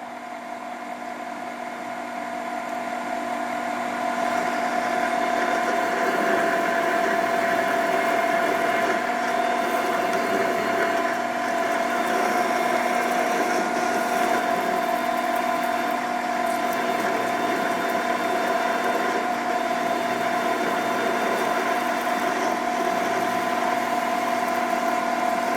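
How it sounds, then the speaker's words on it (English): A lathe runs steadily while taper turning, a continuous mechanical hum with a strong steady tone and a soft scraping cutting texture, moderately close and growing slightly louder after the first few seconds, with no speech. "This operation is the taper turning."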